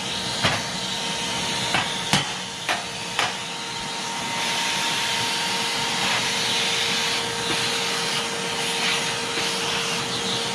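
A Harbor Freight Bauer 6-gallon shop vacuum runs with a loud, steady whine, punctuated early on by several sharp knocks and clicks.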